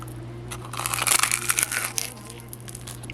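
Crisp fried chicken served with fried rice gets bitten into, giving a run of dry crackly crunches close to the mic over a steady low hum, with no talking.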